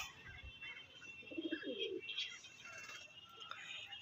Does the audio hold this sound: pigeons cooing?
yes